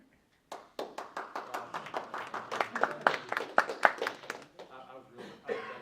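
Scattered clapping from a small audience after a software demo, starting sparse, building into a loose burst of hand claps, then thinning out, with a voice talking near the end.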